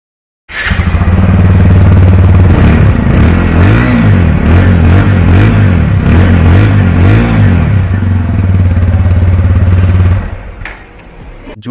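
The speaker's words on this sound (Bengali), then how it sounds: "চলুন এবার বাইকটির এক্সস্ট সাউন্ড শোনা যাক" A 2024 TVS Apache RTR 160 2V two-valve motorcycle starts up and runs loud and close at the exhaust, with a rough idle broken by repeated throttle blips and revs before cutting off near the end.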